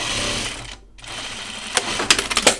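A sewing machine stitches a dress seam in short bursts, a brief pause near the start, then quick rattling runs of needle clatter close up toward the end.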